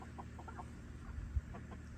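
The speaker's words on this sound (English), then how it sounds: "I got a bunch of roosters in here" Soft clucking from several chickens, roosters among them, a few short scattered calls against quiet barnyard background.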